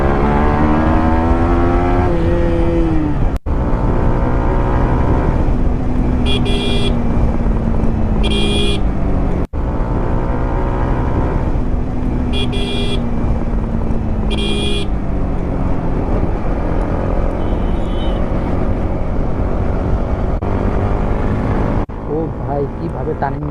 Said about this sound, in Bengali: আমি রেসিং করব R1 5 ভার্সন 4 দিয়ে